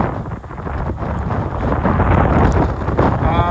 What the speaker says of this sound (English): Oh, here's a gust.